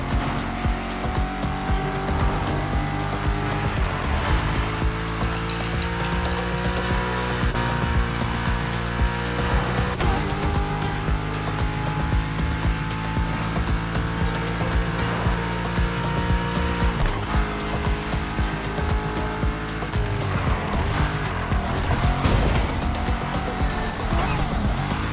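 A BMW M5 Drift Edition slides through corners in The Crew Motorfest, its engine roaring loudly and tires squealing steadily under layered game music.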